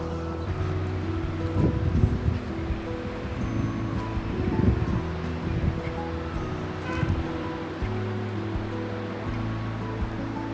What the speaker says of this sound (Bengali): সুন্দর বাতাস, পাহাড় থেকে সমুদ্র দেখা, পাহাড় থেকে সমুদ্রের গর্জন শোনা